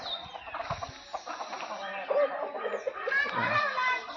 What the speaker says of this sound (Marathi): ही सगळी कोंबडी होती माझी